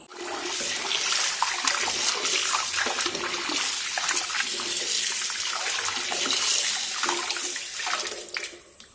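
Chopped tapioca being washed under running water, a steady broadband rush of pouring and splashing that continues for several seconds and then tapers off near the end.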